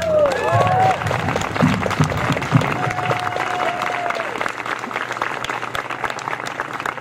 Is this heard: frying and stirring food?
no